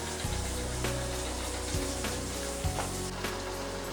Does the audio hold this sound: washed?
yes